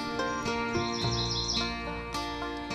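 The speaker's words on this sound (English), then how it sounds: "A lot of birds." Several birds, including turkey, chirp and call together in a busy, layered chorus, close and fairly loud, with no talking.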